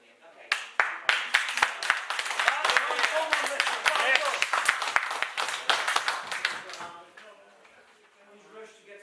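Council members at a borough council meeting break into clapping, a burst of many sharp hand claps that swells and then fades out, with a voice speaking under the tail end.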